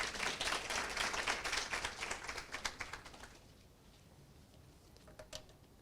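An audience at a university pledge ceremony applauds to welcome the speaker: dense, moderately distant clapping that thins out after about three seconds into a few scattered claps.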